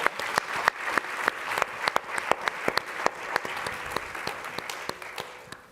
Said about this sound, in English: Let's give another round of applause for that beautiful introduction to Angela.